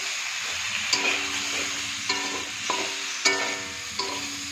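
Cumin and chili powder sauté for a boroli fish curry, giving a soft continuous sizzle with several sharp utensil taps against the pan at uneven intervals, close by and with no talking.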